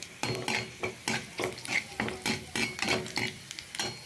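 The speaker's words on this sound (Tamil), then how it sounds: "பூண்டு நல்லா பொன்னிறமாக ஆகிற வரைக்கும் நல்லா வதக்கிக்கலாம்" Garlic sizzles in a pan, sautéing toward golden brown, while a spoon stirs in steady, rhythmic scrapes, close up, with no talking.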